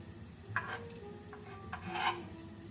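Chopped onion tossed into a hot pan for a sauté gives a soft rustling scrape and stirring, with a louder shuffle near the end over a low background sizzle; quiet, and nobody speaks.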